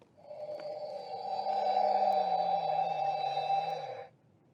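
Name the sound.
interactive Marvel Infinity Gauntlet toy sound when stone inserted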